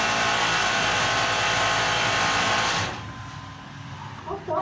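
A Sansei coverstitch machine runs fast and loud in a factory making intimate apparel, stitching elastic onto a waistband with a dense continuous whir that drops away near the end, leaving quieter workshop background.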